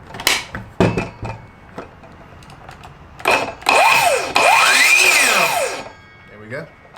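A Ryobi brushless cordless 7-1/4 in. circular saw spins up with a loud rising whine and winds down again during a short test run without cutting. A few clicks and handling knocks come before it, and someone talks briefly.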